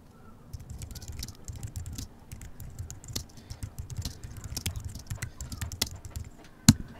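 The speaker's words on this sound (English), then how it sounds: "Let me just write a quick little message." A message is typed on a computer keyboard in a steady run of close, quick key clicks, with one louder key strike near the end.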